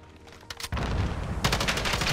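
Gunfire in a shooter video game: a short volley, a brief pause, then sustained rapid shots and booming bursts that continue to the end, loud and close.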